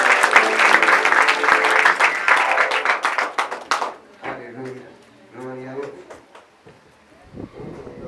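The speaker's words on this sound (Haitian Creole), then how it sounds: "Applaudissements chaudement." An audience at a church gathering applauds warmly for about four seconds, a loud dense burst of clapping that then stops, followed by a speaking voice.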